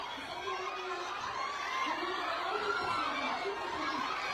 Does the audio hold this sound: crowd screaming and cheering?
yes